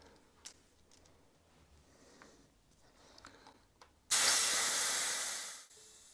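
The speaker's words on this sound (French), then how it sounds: "on va venir dégonfler sa chambre à air" Air hissing out of an electric scooter's inner tube, a Dualtron Victor tire at 3.5 bar, starting abruptly as a loud, close, steady hiss that fades over about a second and a half, after quiet clicks and handling.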